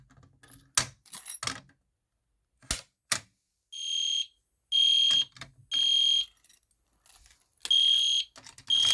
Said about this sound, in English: Yep, it's working, guys. The new multi-CD horn strobe is all set on.